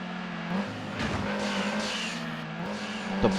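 Tires squeal as a race car slides toward a spin in the Gran Turismo racing game, a sustained engine drone with rising screech and a brief louder burst near the end, heard up close without any talk.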